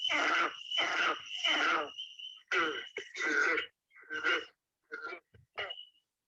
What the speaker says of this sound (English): Let me just pull up the green frog for a minute. This guy's kind of sounds a little bit like a banjo plucking.